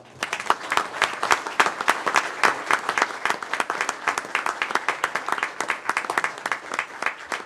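Audience applause after a tribute to a new school at a town board meeting, a dense run of many hands clapping in steady rhythm that holds for the whole stretch with no talk over it.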